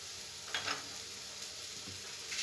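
Flour stirred into melted butter in a pan, a soft sizzle with a few scraping stir strokes, close and quiet, with no one talking.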